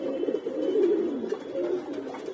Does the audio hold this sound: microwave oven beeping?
no